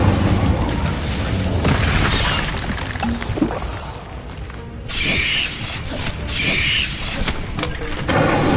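An Incendio fire spell being cast in the video game Hogwarts Legacy, with loud whooshing, roaring bursts of flame that swell and fade twice, over a dense, continuous game soundscape.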